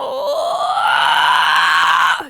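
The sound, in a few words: voice imitating cat meow as metal scream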